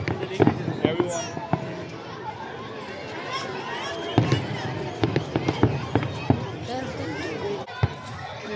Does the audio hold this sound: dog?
no